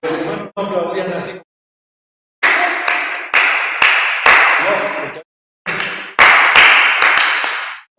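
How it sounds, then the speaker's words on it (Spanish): Hand claps in bursts of sharp slaps, each burst a quick rhythmic run separated by short pauses, close and loud, demonstrating the clapping once used in church worship songs that had no drums. "Los hermanos no aplaudían así."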